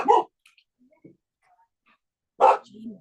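Dogs give two short, loud, close barks about two seconds apart, with faint whimpers and small sounds in the quiet gap between them, indoors near stairs.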